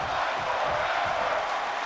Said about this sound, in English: The crowd is loving every minute of this.